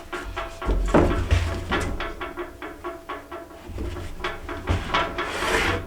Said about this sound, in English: 1/4-inch dowel here that I'm gonna fit into that hole